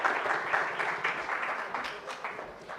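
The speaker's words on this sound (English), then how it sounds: "Another round of applause for our panelists, please." Audience applause for the panelists at an artificial intelligence conference in Africa, a steady moderate wash of clapping throughout with no speech over it.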